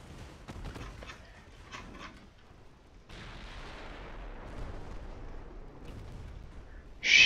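Warship guns firing in Ultimate Admiral Dreadnoughts, a cluster of sharp booms early on, then a deep rolling rumble and a sudden loud blast at the very end.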